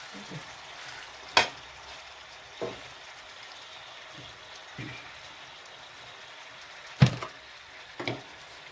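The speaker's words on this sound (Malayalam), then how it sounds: "ഇനി നമ്മൾ ക്ലീൻ ചെയ്ത് വെച്ചേക്കുന്ന ചിക്കൻ ഇട്ട് കൊടുക്കാം" Cleaned chicken pieces going into a hot pan for a country-style Kerala chicken curry, giving a low steady fry with a few sharp clatters and splashes standing out near the start and end.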